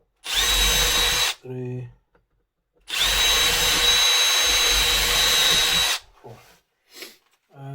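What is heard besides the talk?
power drill drilling holes in wood for a vegetable basket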